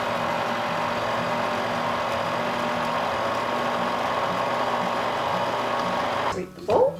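Electric mixer beating orange cranberry quick bread batter, a steady, fairly loud motor whir running throughout before cutting out near the end with a brief clatter.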